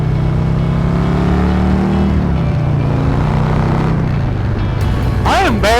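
A 2020 Harley-Davidson Road King Special motorcycle accelerating on the road: a loud, deep engine rumble that climbs and shifts in pitch, with strong wind noise throughout.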